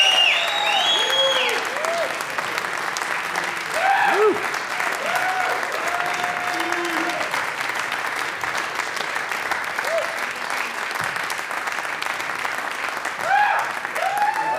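A concert audience applauds a band with dense, steady clapping and cheering. Whoops and shouts rise above it, and the applause holds at full strength from start to finish.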